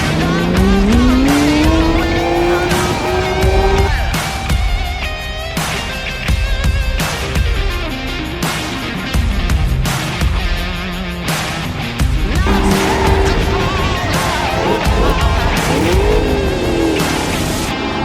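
Race car in a grand touring rally driving hard, engine revving loudly with rising pitch sweeps and repeated squealing tires over continuous road noise and music-like tones.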